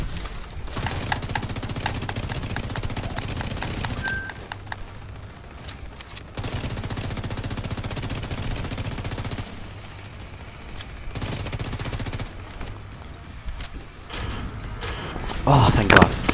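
Rapid bursts of video game gunfire shooting at an enemy, loud and close, in several long sustained volleys with brief gaps between them, while players talk over the shooting.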